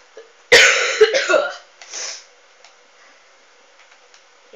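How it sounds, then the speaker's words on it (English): Someone coughing in a burst of several harsh coughs close to the mic, followed by a softer throat sound and then near silence with faint ticks. "sorry if these coughing and temporary sneezing noises are putting you off"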